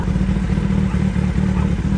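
A motorcycle engine runs loud and steady at close range, with a low rumbling drone and faint clatter, no voices over it.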